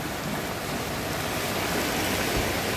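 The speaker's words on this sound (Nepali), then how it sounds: "यस्तो छ यो खोला झन्झन बढ्न थालिरहेको छ हेर्दा हेर्दै।" Swollen river rushing through Anamnagar in Kathmandu during a flood amid heavy monsoon rain, a dense, steady roar of churning water filling the whole scene with no voices.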